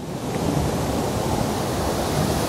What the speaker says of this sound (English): There's a waterfall underneath us.